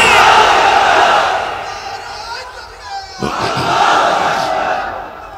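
A large outdoor crowd at an Islamic gathering roars in unison in reply to a Nara-e-Takbir call, a loud massed shout that swells and fades, followed by a second rising wave of voices.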